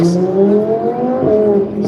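A supercar's 5.2-litre naturally aspirated engine revs loudly and close by, its steady, rising drone held for about two seconds with a brief dip and recovery.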